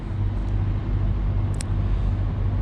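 Steady low roar of traffic at an Italian motorway rest area with Polish, Bulgarian and refrigerated trucks, a constant rumbling engine and road wash with a brief high squeal near the middle, no voices.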